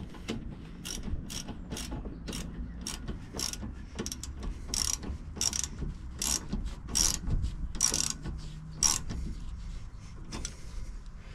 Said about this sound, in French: la clé de 15 et on va pouvoir visser